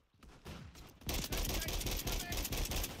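Gunfire in a shooter video game played with mouse and keyboard, a scattered volley opening into dense rapid shots that run loud and close to the end, with some talk mixed in.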